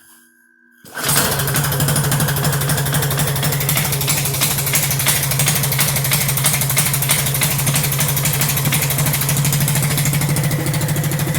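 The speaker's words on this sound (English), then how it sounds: "So we push our start button, pull the choke, and let's see what happens." A Hisun Coleman CT200-U UTV fitted with a Go Power Sport Stage 1 kit cranks and fires after a second of near silence, then settles into a loud, steady, close idle with a rapid even chug.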